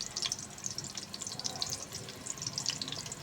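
Close, steady sizzling hiss with scattered crackles and pops of sliced onions frying in hot ghee for a dal tadka; no voices.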